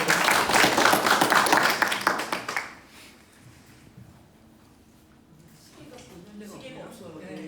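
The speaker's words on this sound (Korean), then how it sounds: "큰 박수 부탁드리도록 하겠습니다." Audience clapping at a Jeju public-transport policy forum, a loud burst of many hands for under three seconds that stops abruptly, followed by quiet room tone and then a voice beginning to speak.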